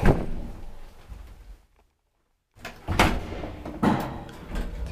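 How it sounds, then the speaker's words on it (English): A rare 1961 Valmet-Schlieren traction elevator door slides, with a muffled thud, a brief silent gap, then rumbling sliding and clunking movement close by. "Rare Valmet door."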